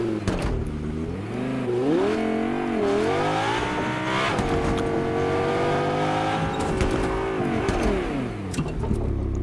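Car engine in the video game Fortnite, revving and accelerating close up with rising and falling pitch sweeps and brief tire squeal, driving continuously and loudly throughout.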